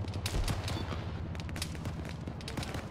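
Heavy video-game gunfire pours in from the east during a squad firefight, with dense overlapping shots and booms forming a loud, continuous barrage.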